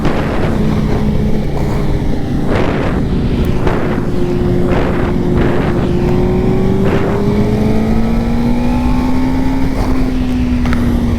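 A Suzuki GSX-R 600 sport bike engine heard on the move, a loud continuous whine that rises and falls as the rider works through the gears, with sharp shift breaks and wind roar throughout.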